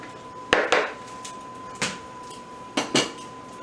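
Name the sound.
tossing grilled vegetables in a bowl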